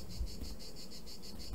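Honeybees buzz in a steady, faint hum while a hive frame is shaken during queen rearing, the drone pulsing gently and evenly with no voices.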